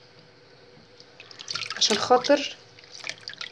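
Grape leaves, just blanched in boiling water with salt and a spoon of vinegar, dropped into a bowl of cold water, making a short burst of splashing and dripping in the middle while someone talks.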